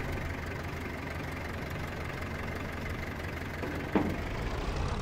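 A tractor engine idles steadily in Farming Simulator 25, a continuous low rumble with a brief click near the end, no voices.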